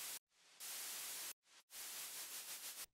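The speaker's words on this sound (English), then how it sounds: "So here's the noise." Bright white noise synth layer from a future trap chord stack, loud and hissing in chopped bursts that cut off abruptly between blocks, the final stretch pulsing in a quick rhythm, with no voices.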